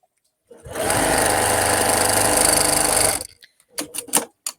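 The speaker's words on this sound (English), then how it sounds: "I'm going to come to my sewing machine" Sewing machine stitching a quarter-inch seam across fabric, a fast, loud, steady mechanical whir lasting about three seconds, then stopping, followed by a few faint clicks and handling noises.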